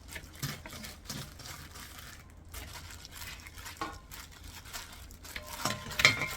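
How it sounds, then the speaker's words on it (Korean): Washed, squeezed chives with jujube and seasoning being hand-mixed in a bowl, soft wet squelching and rustling in irregular bursts with a couple of light clinks, fairly close and quiet. "이렇게 해서 그냥 조물조물 버무리기만 하면 끝."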